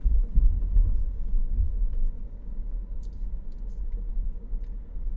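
A car drives through city streets, heard as a constant low engine and road rumble from inside the vehicle, slightly louder at the start and then steady, with no talking.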